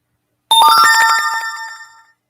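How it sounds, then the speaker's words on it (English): A phone ringtone with a bright, casino-game-like chime: one loud close burst of ringing electronic tones that starts abruptly and fades out over about a second and a half, with nothing else heard. "This phone sounds like a casino game."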